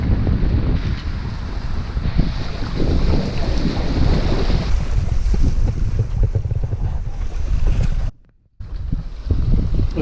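Steady wind blows across the microphone while sailing near Kodiak on an incoming tide, a continuous roaring rush over water and boat noise that drops out abruptly for a moment near the end before resuming.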